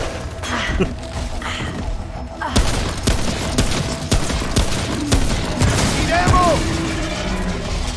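Dense, sustained gunfire from the video game Remnant: From the Ashes, heavy rapid shots and booms layered over game noise with no clear gaps.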